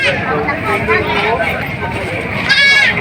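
Voices chatter over a busy outdoor livestock market in Padre Garcia, Batangas, then a goat gives a clear, wavering bleat near the end.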